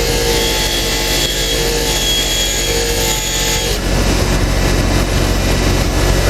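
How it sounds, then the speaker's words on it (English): A rotating wheel held against an air-cooled Porsche 911 cylinder-head valve to scrub off carbon, a loud steady abrasive grinding whir that drops to a slightly different rough tone partway through, with no talk. "I'll hold the valve in up against the seat and I'll let the wheel"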